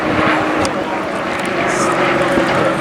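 Propeller aircraft, a tandem-cockpit trainer, flying rolls at the Blackpool Airshow, with a steady broad engine drone and whine, fairly loud and continuous beneath a commentator's talk.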